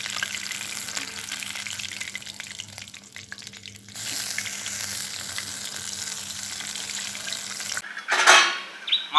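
Pabda fish frying in a little oil, heard as a soft, continuous sizzle close by, with a steady low hum beneath it and a louder burst of clattering at the end.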